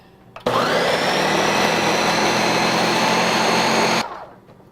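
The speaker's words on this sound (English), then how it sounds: "you can use a regular blender. Yep. And we're going to start on low" A blender whirs steadily on low speed for about three and a half seconds, starting abruptly and cutting off cleanly, loud and close with no talk.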